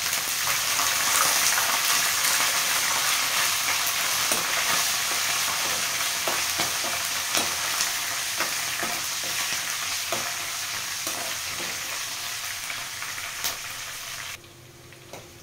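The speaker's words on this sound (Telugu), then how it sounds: "పల్లీలు, పచ్చిమిర్చి వేసుకుందాం," Peanuts, green chillies, cumin and mustard seeds sizzle steadily in hot oil in a pan while a spoon stirs them with scattered scrapes and clicks. The frying continues without a break and grows quieter near the end.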